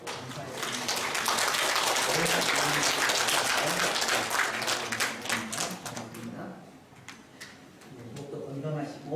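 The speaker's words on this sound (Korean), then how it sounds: "박수로 한번 위로하고 격려하고 또 감사했습니다" A church congregation applauds during a Korean Sunday worship service for Parents' Sunday, sustained clapping for about six seconds that trails off into scattered claps under a murmur of voices.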